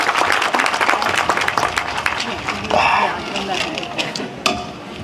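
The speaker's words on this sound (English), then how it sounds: "he deserves a round of applause" A crowd applauds at an Operation First Response charity walk event in Ocean City, New Jersey, in 2014. Dense, steady clapping runs for about five seconds, mixed with voices.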